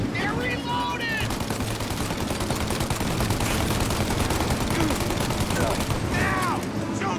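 Nonstop gunfire in Mafia: Definitive Edition, a dense, unbroken crackle of rapid shots at steady loudness, with short voice fragments poking through the din now and then.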